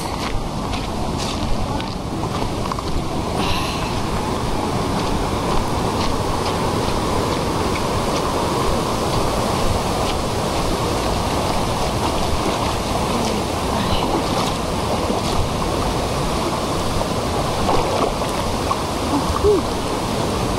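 A river rushes in a constant, full hiss of flowing water, loud and steady from start to finish with only slight surges.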